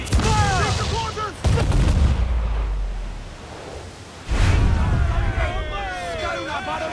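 Ship cannons fire in the naval combat of Assassin's Creed 4 Black Flag: two heavy booming blasts with low rumbling tails, mixed with surf and shouted crew voices.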